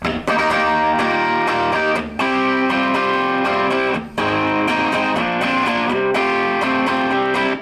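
Distorted electric guitar strums a bridge chord progression in steady bars, loud and close, with brief gaps between phrases and no talking.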